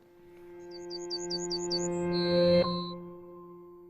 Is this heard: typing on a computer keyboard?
no